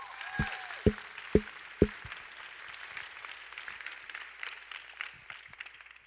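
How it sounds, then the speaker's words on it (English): At an evening conference keynote, an audience applauds award winners. Four sharp, close claps ring out first, then fainter, scattered clapping from the crowd continues softly in the background. "another round of applause for these award winners"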